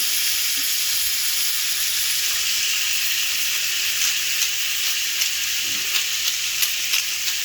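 Chicken and bacon casserole sizzling and frying in a pan, a loud steady close hiss with occasional soft stirring knocks and no voices.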